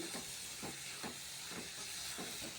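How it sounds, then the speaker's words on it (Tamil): Mango and dal mixture with salt being sautéed and stirred, a soft, faint steady hiss with rhythmic swishing stirring strokes roughly every half second, no talking. "உப்பு போட்டு நல்லா கிளறிட்டுருக்கேன் பாருங்கள் நல்லா அருமையாக சூப்பராக நல்லா வதங்கிட்டுருக்கு"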